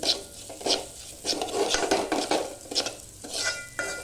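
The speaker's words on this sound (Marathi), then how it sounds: "एकावर तूप घेतलं आहे आता हा मस्तपैकी असा छानसं भाजून घेते लालसर रंग येऊपर्यंत" Semolina roasting in ghee in a pan for kheer, with soft scraping and stirring strokes over a low sizzle that rise and fall in a loose, repeated rhythm, fairly quiet and close, with no speech.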